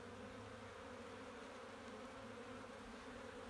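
Buckfast honeybees drone in a steady, dense buzz at an open hive, close and continuous with no other sound.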